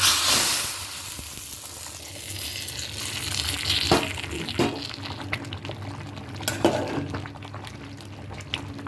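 Hot ghee tempering with dried red chili and cumin seeds poured into a cooking pot of vegetable dalia, a steady soft sizzle and bubbling with a few sharp crackles and spits, close by and fairly quiet.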